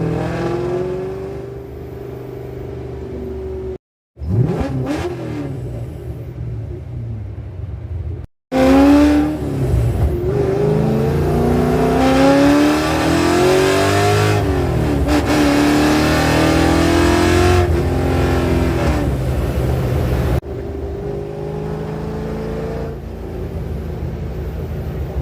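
A custom-built project car with custom tail pipes revs loudly and repeatedly, its engine rising and falling in drawn-out surges with brief cut-outs between, close and dominant with no talk over it.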